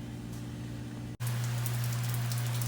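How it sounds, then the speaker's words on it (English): Steady rain falling outside in Florida weather, a continuous hiss with a low constant hum underneath and a brief dropout midway, no talking. "It's just raining away."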